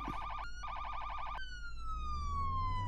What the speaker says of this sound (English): Just turn the turn the lights and sirens on and blow it.